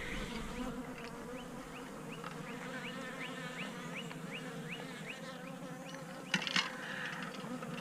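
Honey bees buzz steadily around a beekeeper wearing a bee veil at the start of the season, a dense insect drone with faint scattered clicks, no talking.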